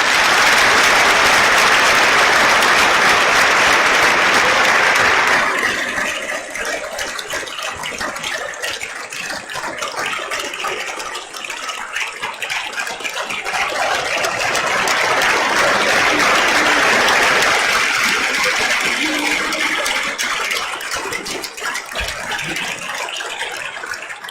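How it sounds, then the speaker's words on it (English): Audience applause at a high school Veterans Day assembly, a loud, dense wash of many clapping hands filling the hall, slightly dipping midway before swelling again and continuing steadily throughout. "Please give them all a round of applause."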